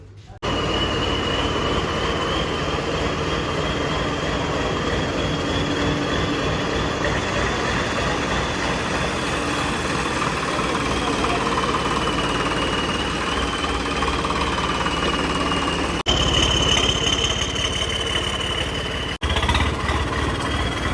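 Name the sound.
Swaraj tractor engine running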